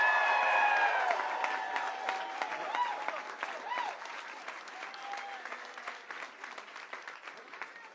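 A crowd at Senator Bill Hagerty's election victory event gives a round of applause, loud at first and gradually thinning into scattered claps, with a few voices calling out over it.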